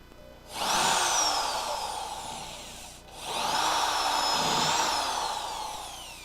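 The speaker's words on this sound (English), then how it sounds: "The old trusty spot weld cutter out." A spot weld cutter drills out a spot weld on a car body, in two sustained whining bursts of about two and a half seconds each, close and fairly loud, with no talk.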